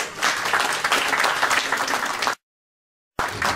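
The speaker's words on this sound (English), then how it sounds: "A big round of applause to Architect Emmanuel Lelis Flores." An audience at an award ceremony applauds loudly and steadily, with dense clapping that cuts off abruptly and then resumes after a short gap.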